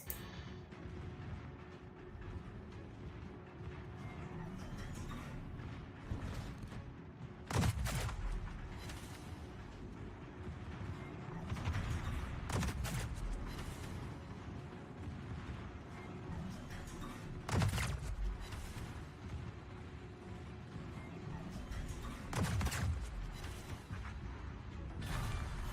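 Gunshots in a video game come as a few muffled booms spaced several seconds apart, rising over a constant low hum and rustling noise.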